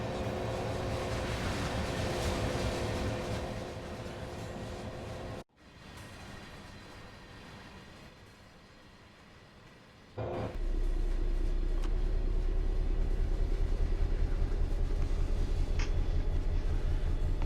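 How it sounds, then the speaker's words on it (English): A Class 66 diesel freight locomotive hauling a long train in Train Sim World 5 on the East Coast Main Line near Newark Northgate, a steady loud engine drone and rumble with a brief quieter dip midway, then a heavier sustained low roar. "So obviously today we are using quite a long train here."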